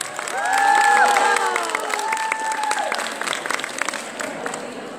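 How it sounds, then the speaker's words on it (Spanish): Audience at a Mary Kay first-anniversary event in Peru applauding and cheering, a dense roar of clapping with high whoops and shouts that swells early and holds steady. "les pido un fuerte aplauso para este maravilloso staff de Mary Kay"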